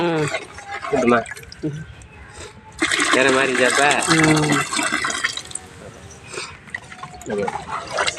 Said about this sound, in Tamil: தண்ணி ஊற்றவா